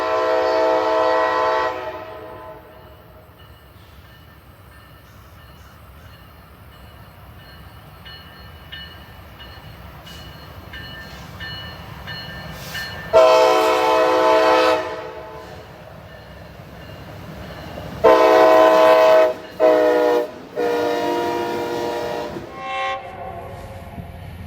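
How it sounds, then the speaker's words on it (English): A CSX SD70ACe-T4 locomotive's K5 LAM and K2 air horns blare in several long loud blasts, with quieter rail rumble and a ringing electronic bell in the gaps between them. "The CSX Tier 4 Ace comes with the K5 LAM air horn and a K2 air horn"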